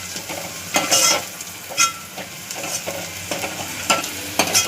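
Onion frying and being stirred in a pan for mutton curry, with a steady sizzle and repeated scraping stirs about once a second, close and fairly loud, no talking.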